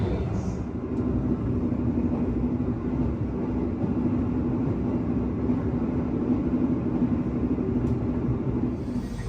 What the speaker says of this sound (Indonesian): Perjalanan kereta api Argo Wilis yang saya naiki telah tiba di stasiun Mojokerto